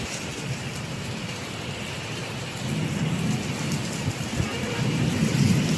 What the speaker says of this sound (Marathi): एवढा घाणेरडा पाऊस आहे.